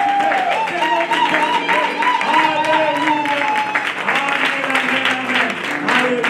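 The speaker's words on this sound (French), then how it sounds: "acclame encore le Seigneur." Church congregation applauding and acclaiming the Lord, a loud steady mass of clapping with voices shouting and singing along throughout, dense and continuous.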